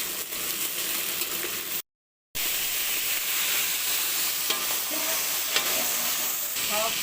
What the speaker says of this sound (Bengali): এবার কুমড়ো আর ডাঁটাগুলোকে ভেজে নেব